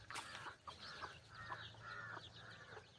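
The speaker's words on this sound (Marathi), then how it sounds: "तिला जर असं भीती वाटायला लागली तर ती कोटकोट करते आणि कोटकोट करते परत" A frightened desi village hen clucks in a string of short, sharp calls from close by, with a low steady hum of other background sound underneath.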